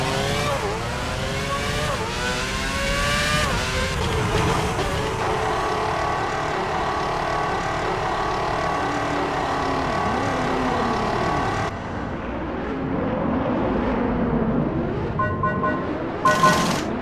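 A Formula 1 car in the F1 06 racing game drives into the pit lane, its high engine whine steady and loud with shifting pitch, other car engines droning beneath, and brief revving toward the end.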